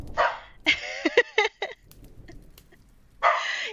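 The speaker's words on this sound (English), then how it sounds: "dog upset" An upset pet dog whimpers and barks indoors, close and loud, with a run of high whines and yips followed by a pause and a final whimpering burst.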